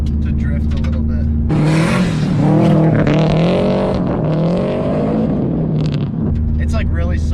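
A Subaru drifts through a soft, sandy corner on a long gravel driveway. Its engine revs hard and climbs, and a loose rushing spray swells in the middle before easing off, all close and loud.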